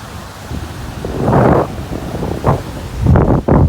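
Hurricane-force wind buffets the microphone at a beach with surf and kite surfers out on the water, heavy roaring gusts swelling and easing in rough bursts over a low wash of waves.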